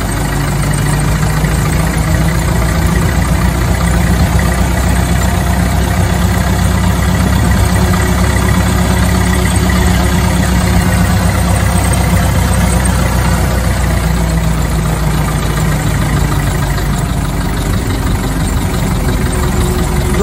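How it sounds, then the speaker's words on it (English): Ford Model T engine running steadily while the car climbs a hill, a loud continuous low chugging drone with no break throughout. "Now I can give it some gas and we'll get up a little bit of speed to make it up this next hill."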